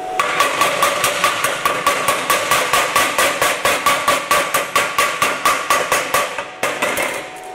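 A hammer chips brittle slag off a fresh weld from an inverter welder in rapid, evenly spaced blows, about thirty sharp close metallic knocks in a steady rhythm, loud and alone.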